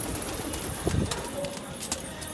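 Pet pigeons cooing softly in a coop while the birds are shut in, with someone talking over a steady rustling background.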